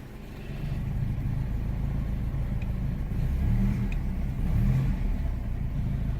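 Volvo 240 with a swapped-in T5 engine runs steadily as it warms up, a continuous low engine drone with a slight rise in the middle, close by and alone.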